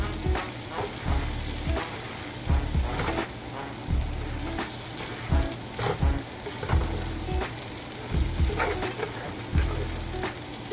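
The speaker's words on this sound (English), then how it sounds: "I'm gonna give this a really good mix." Ramen noodles are stir-fried in a pan, with a steady sizzle running throughout and repeated rhythmic scraping strokes of a utensil stirring and tossing the noodles.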